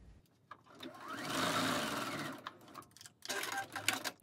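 A sewing machine runs a quarter-inch seam straight through fabric while quilt-as-you-go sewing a zipper pouch, a steady close mechanical whir that builds, eases off briefly, then resumes in quicker bursts.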